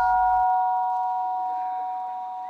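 A gong is struck once at Panditarama Forest Meditation Centre in Bago to call monks to breakfast. Its metallic tone rings on and slowly fades, clear and prominent.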